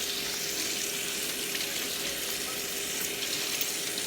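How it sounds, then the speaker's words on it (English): Water runs from a kitchen tap while hands are rinsed after peeling tomatoes for pressure canning, a loud, close, continuous splashing hiss with no talk. "I'm going to rinse my hands."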